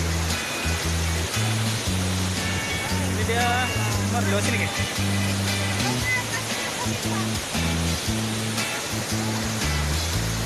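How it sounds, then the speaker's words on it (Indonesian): Andulan waterfall near Palopo gives a steady rushing roar of falling water that runs throughout, while people talk over it at close range. "Kita sudah sampai di air terjun Andulan."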